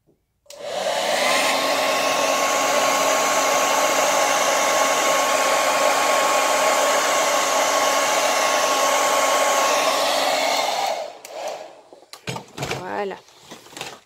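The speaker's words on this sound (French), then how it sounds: "alors je vais mettre un coup de sèche-cheveux." A hair dryer whirs loudly and steadily for about ten seconds, then cuts off, followed by a few brief handling clatters.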